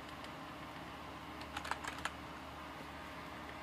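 A brief burst of a few quick keystrokes on a computer keyboard, faint and close, with quiet background hum around it.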